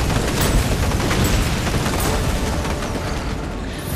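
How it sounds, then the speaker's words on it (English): A meteor area-effect ability detonates in the fantasy battle game Gigantic, a dense roaring explosion with rumbling crackle and scattered pops that fades slowly over a few seconds, loud and heard without talk. "So this is my meteor here. It's an area effect."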